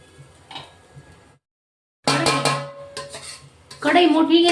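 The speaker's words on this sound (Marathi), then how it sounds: "कढई मोठी घेतली आहे, सर्व आपण टाकून घेतोय त्याच्यात" Ajwain and fennel seeds tipped into a large hot kadhai: a dense rattling patter of seeds hitting metal, in two close bursts after a brief quiet.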